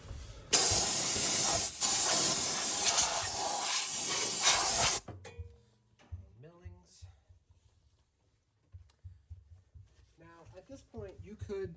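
Compressed air blasts loudly into a Honda HS snowblower impeller housing in one steady, harsh hiss lasting several seconds, then cuts off, leaving scattered clicks and a voice speaking afterward.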